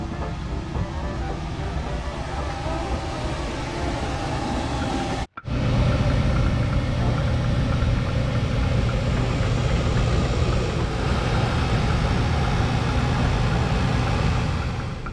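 A sailboat air conditioner on a Gozzard 44 running steadily, a loud, constant blowing roar that cuts out for a split second and restarts, with no talk over it.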